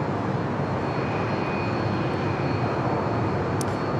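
A Cebu Pacific Airbus A330neo bound for Manila roars on its takeoff run at Sydney Airport, a loud, steady broadband jet thunder holding constant throughout with no voices.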